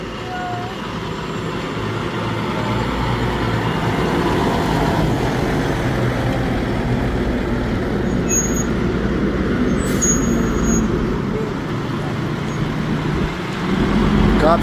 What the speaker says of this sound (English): Cops driving off doing nothing.